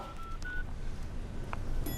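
A telephone number is dialed on a keypad, giving a few short beep tones over a low steady hum with no voices.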